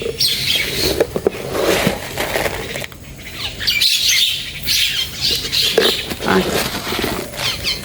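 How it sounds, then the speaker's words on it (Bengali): Many birds squawk and flap their wings close by while being fed at home in early morning, a dense, continuous chatter of harsh calls with bursts of wingbeats and light pattering throughout. "দেখুন কত যে পাখি আসে প্রতিদিন, ঘরের মধ্যে ঢুকে যায়"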